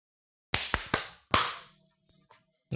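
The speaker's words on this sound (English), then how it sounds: "let's clap at 55 seconds" Podcast hosts clap together to sync their recording, producing four or five sharp, slightly staggered claps close to the microphone, each followed by a short decay in an otherwise quiet room.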